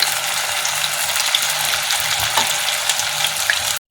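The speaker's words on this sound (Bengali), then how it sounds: "সব মাছগুলো দিয়ে দিচ্ছি।" Fish pieces fry in hot oil, a loud, continuous bright crackling and hiss that stays close and steady before cutting off abruptly.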